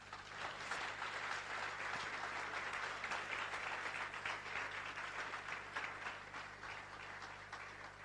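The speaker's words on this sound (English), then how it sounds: "Give them a round of applause." Sustained audience applause at a festival keynote, steady dense clapping from a sizable crowd holding at an even level throughout, heard somewhat distant and without talk over it.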